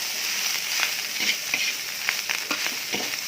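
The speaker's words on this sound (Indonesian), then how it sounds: "Kita aduk-aduk lagi." Chicken nugget fried rice with scrambled egg being stir-fried in a pan, a steady close sizzle and crackle with scattered scraping stirs of the spatula throughout.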